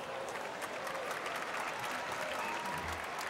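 Applause sound effect from the video game Geometry Dash: steady crowd clapping, even and continuous, heard softly with a voice murmuring faintly underneath.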